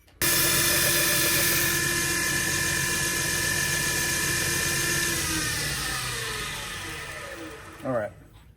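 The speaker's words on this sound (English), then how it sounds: "The conditioning belts, and this is 120 on the belt." Belt grinder running steadily with a 120 grit conditioning belt while an axe bevel is sanded, a loud continuous whir that slowly fades near the end, followed by a brief scrape.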